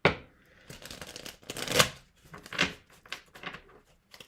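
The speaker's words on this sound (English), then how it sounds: "Just blindly shuffling the deck here." A deck of tarot cards being shuffled by hand, giving repeated papery riffles and soft slaps in irregular bursts, close and fairly quiet, with no talking.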